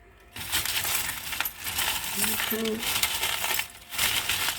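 Small trinkets pour and clatter into a container in a steady rattling cascade for a few seconds, close by, with no talking.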